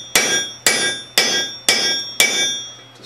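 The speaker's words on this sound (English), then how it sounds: "Start by punching the hole through with a punch" Five heavy metallic hammer strikes drive a punch through hot steel at an even, deliberate pace, each blow ringing briefly before the next.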